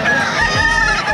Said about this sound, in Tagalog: Mga hen.